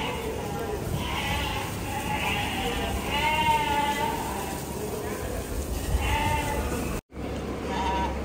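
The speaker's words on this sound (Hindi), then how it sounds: "बकरियां" Goats bleating in a livestock market ahead of Eid al-Adha, with several wavering cries rising over a steady crowd murmur and people talking throughout.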